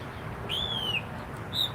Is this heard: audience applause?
no